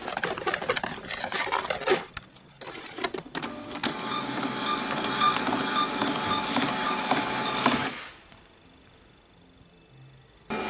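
Thermal transfer label printer feeding labels back through for a second color pass: clicking and rattling at first, then a steady loud mechanical whir for about four seconds that stops abruptly.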